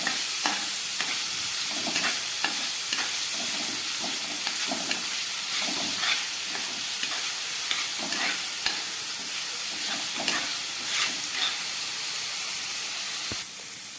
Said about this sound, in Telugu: కడాయిలో ఆయిల్ వేసి బాగా కాగాక ఆనియన్ పేస్ట్, పచ్చిమిర్చి అయితే యాడ్ చేసుకోవాలి.